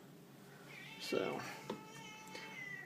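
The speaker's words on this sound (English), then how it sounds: "and there's a kitty fussing." A cat meows and fusses with a few short cries in a room, moderately close, while a person says a word nearby.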